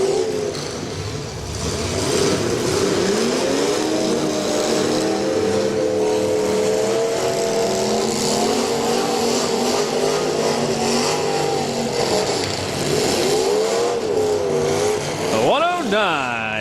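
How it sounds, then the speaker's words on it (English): Demolition derby cars at the Portage County derby revving loudly and swinging around the track, engines roaring continuously with rising and falling pitch, close and loud throughout, with a commentator's voice over them. "David Diver swinging around the track, and he was making some hits on Cody Christie out of Kent."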